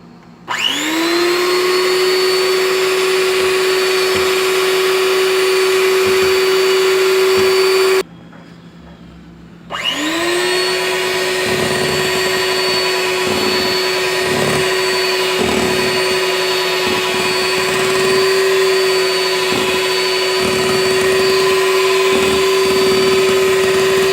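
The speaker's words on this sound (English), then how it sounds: "I'm going to use my hand mixer and I'm going to blend this, mix this until it gets to like nice stiff peaks." An electric hand mixer whips heavy cream in a mixing bowl for peanut butter ice cream, a steady loud motor whine that cuts out briefly after a few seconds and then resumes, with rhythmic thumps of the beaters against the bowl.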